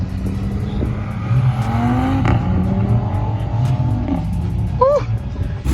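A five-cylinder car revs hard as it pulls away from a car meet, its engine note rising in pitch with a loud roar, while voices and crowd noise carry alongside.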